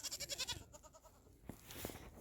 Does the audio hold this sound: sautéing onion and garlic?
no